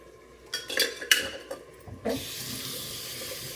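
A pot is handled under a running kitchen tap while preparing to boil eggs for prawn biryani in an Instant Pot: a few clanks of metal cookware, then a steady stream of water filling the pot.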